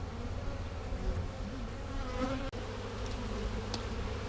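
Honeybees give a steady, close, dense buzz around the queen in an open apiary hive, with a single brief dropout partway through. There is no speech.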